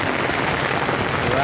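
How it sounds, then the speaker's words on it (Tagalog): Heavy rain falls over Manila Bay in an even, close, steady hiss of downpour, with a voice speaking briefly over it. "lakas ng ulan, no?"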